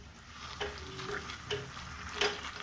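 Semolina halwa being stirred and pressed in ghee in a pan, with soft scraping strokes at a steady rhythm and a light sizzle running underneath, close and fairly quiet.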